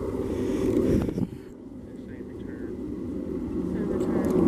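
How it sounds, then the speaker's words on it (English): A fixed-wing airplane passing overhead makes a low, steady droning rumble that persists throughout, heard at a distance beneath wind buffeting and a person speaking. "and there's a plane."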